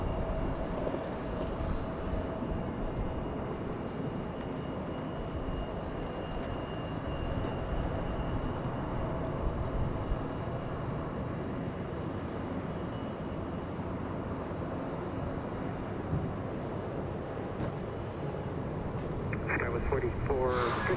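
Boeing 777 jet airliner at Los Angeles International Airport, a steady broad engine roar holding for the whole stretch, with a radio-style voice talking faintly over it.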